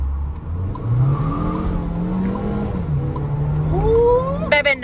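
A car in sport mode pulling away in first gear, its engine rising steadily in pitch as it accelerates, close and continuous, heard from inside the cabin.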